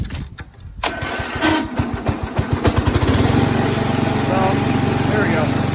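A John Deere 100 lawn tractor engine cranks with a rapid, rhythmic churning for a few seconds, then catches and settles into a loud, steady running hum up close.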